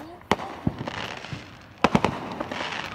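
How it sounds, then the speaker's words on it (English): Fireworks burst in sharp cracks and pops around a group of people exploring an abandoned factory, with a cluster of three close bangs near the end and faint voices underneath. "Some of the fireworks."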